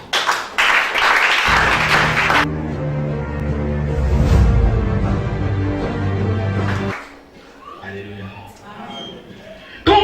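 A church congregation breaks into loud, dense applause for a couple of seconds, then it gives way to sustained harmonic music and voices that carry on at a steady level before fading.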